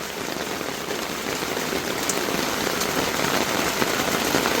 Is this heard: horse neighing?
no